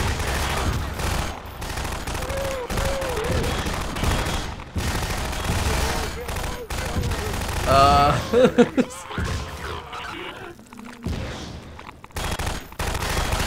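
Enemy gunfire in Half-Life 2: Episode Two, loud rapid volleys of shots rattling almost continuously, close and harsh, with a voice talking at moments over the shooting.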